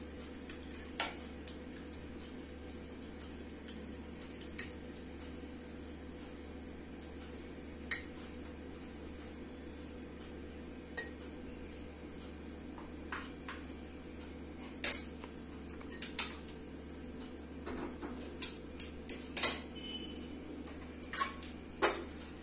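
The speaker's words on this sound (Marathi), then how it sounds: "ही खिचडी आहे ना प्लेटमध्ये काढून घेतो" Cooked khichdi of rice and toor dal being served from a pot onto a plate, with scattered light clinks and scrapes of a metal spoon against cookware over a faint steady hum, the taps growing more frequent toward the end.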